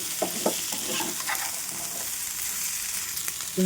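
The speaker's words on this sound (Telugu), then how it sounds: "కొంచెం నిదానంగా ఫ్రై చేసుకోవాలి" Sweet corn and carrot masala curry fries slowly in a pan, making a soft, constant sizzle. A few light stirring scrapes sound near the start, and a brief clatter comes at the end.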